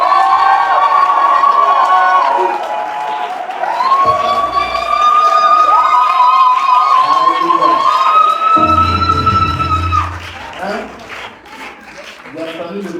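A church congregation cheers loudly to acclaim the Lord: a dense crowd roar with long held shouts and rising vocal tones, fading near the end into scattered calls.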